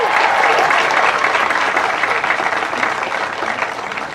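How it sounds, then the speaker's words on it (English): Graduating students applaud their parents during a high school graduation ceremony, a loud, dense wash of clapping from a large crowd that gradually thins and softens. "graduates, it is time to honor your parents with appreciative applause."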